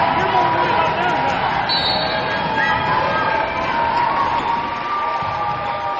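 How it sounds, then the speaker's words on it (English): A crowd roars and cheers at a 2015 NJCAA Division II volleyball semifinal between Glendale and Lincoln Land, a dense, steady wall of noise throughout with commentary voices running over it. "you can hear the roar of the crowd"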